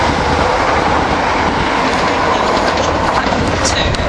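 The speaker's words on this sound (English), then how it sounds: "The train now approaching platform 2 does not stop here." A non-stopping train roars through Royston station at close range past platform 2, wheels clattering over the rails in a loud, continuous rush of noise.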